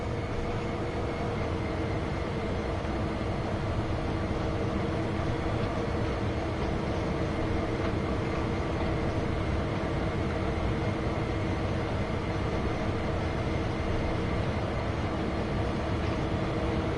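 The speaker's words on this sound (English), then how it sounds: "The train will roll, so I don't need to apply" An SD40-2 diesel freight train in Train Sim World 2 on Sherman Hill rolls along with a steady, continuous low rumble and rail noise that stays even and unbroken throughout.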